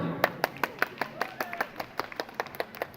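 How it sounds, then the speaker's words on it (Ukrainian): A small crowd at an outdoor public gathering in Ivano-Frankivsk claps in a steady, even rhythm, about five claps per second, moderately close and fairly light, with voices faintly underneath. "Ваші оплески, друзі."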